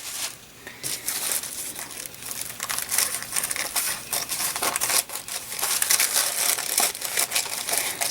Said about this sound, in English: Gotta love tissue paper.